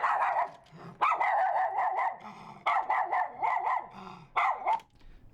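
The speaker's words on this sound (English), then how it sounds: "Play the authentic miniature schnauzer." A miniature schnauzer barks in short clustered bursts, sharp and close, with brief pauses between volleys and faint growly undertones.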